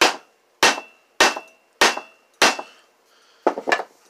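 A rubber mallet strikes a screwdriver handle in a garage while loosening a part on a 119 Sachs Dolmar chainsaw, giving five evenly spaced sharp taps followed by a softer double knock, close and with no talk.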